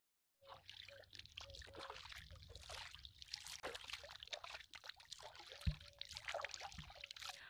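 Someone rinses their mouth with water, producing close, quiet sloshing, trickling and spitting splashes in irregular bursts, with one sharp knock partway through.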